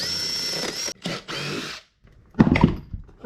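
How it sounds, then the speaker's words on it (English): A hole saw bites through the back of a wooden cabinet in the wheelhouse of an old wooden boat, in three loud whirring bursts separated by short pauses, close by with no speech. "use the hole saw with the pilot hole and carry on forward and put a hole in through to the back of the cabinet in the wheelhouse"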